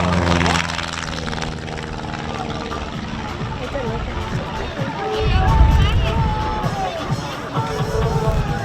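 A Long EZ aircraft flies aerobatics at the Lake Cumberland Air Show, its propeller engine droning and swelling past from a distance while an announcer talks over the noise and a crowd murmurs.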